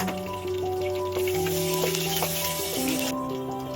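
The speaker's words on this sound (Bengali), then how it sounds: "এখন একটা বড় পাত্রের ভিতরে আমরা সয়াবিন তেল দিয়ে পর্যাপ্ত পরিমাণ আমরা কয়েকটা তেজপাতা এবং এলাচ দিয়ে দিব" Bay leaves and cardamom pods sizzle in soybean oil in a large pot, a steady, close frying hiss with a faint hum underneath and no voices.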